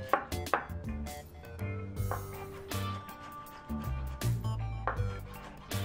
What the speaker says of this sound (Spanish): Vamos a aprovechar también para picar un ajo con un poco de perejil.